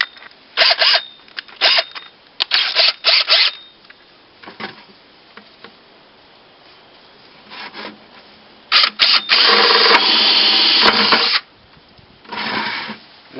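A power drill bores holes through a plastic bucket for a homemade mouse trap, loud whining bursts of varying length separated by pauses, one long steady run near the end, with no talking.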